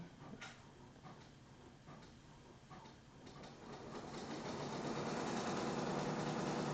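An embroidery machine stitches out a section of a Nativity tree skirt's outer ring, giving a faint, steady mechanical whir and rapid needle chatter that grows slightly louder and fuller toward the end, with no talking.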